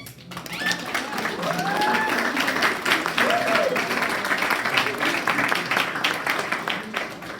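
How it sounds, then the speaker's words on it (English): Graduation audience applauding for teachers, a sustained wash of many hands clapping that swells and holds steady, with a voice speaking briefly early on. "give your teachers a round of applause"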